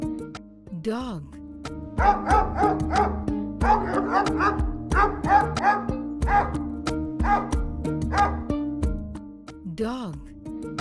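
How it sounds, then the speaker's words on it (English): A dog barks in repeated, evenly spaced bursts over steady background music, loud and close, with a few yips and whimpers between the barks. "Dog."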